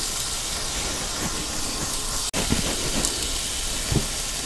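Meatballs with onion and garlic brown in a hot pan, making a steady loud sizzle and hiss with a few louder crackles and a brief cut partway through, with nobody talking.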